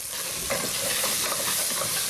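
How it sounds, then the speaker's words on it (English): A constant, hissing sizzle of Thai curry paste frying in a hot pan, with light stirring scrapes, close and fairly loud. "All right, it's starting to sizzle in here."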